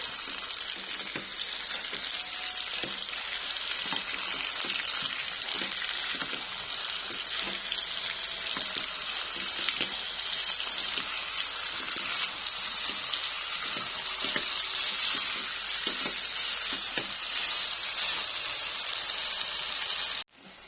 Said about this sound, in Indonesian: Sambelnya aku bikin balado terong, aku pakai sambal tuh, langsung aja diaduk.